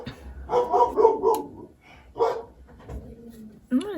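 A dog indoors gives a few close, excited barks and yips in uneven bursts, with a higher whimpering whine near the end.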